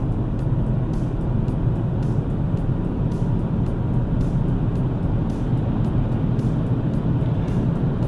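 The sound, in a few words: BMW X1 three-cylinder diesel accelerating on highway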